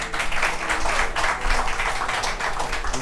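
An audience at a food festival cooking demonstration in Goussainville applauds loudly, giving a thick, continuous roar of clapping throughout.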